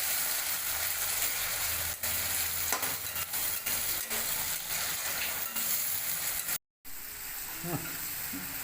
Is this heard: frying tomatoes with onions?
yes